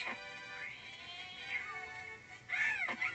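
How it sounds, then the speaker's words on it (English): A video game cat gives two drawn-out, wavering meows, one long and fairly faint, then a louder rising and falling cry near the end, with no talk. "Watch out for the cat!"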